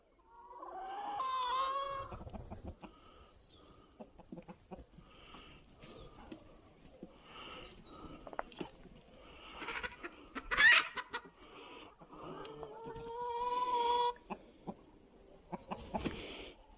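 Hens and roosters clucking and squawking at a backyard morning feeding, several close birds calling in bursts, with a sharp louder squawk near the middle and quieter scratching between calls.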